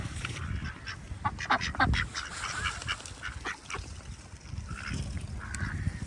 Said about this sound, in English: These are mallards.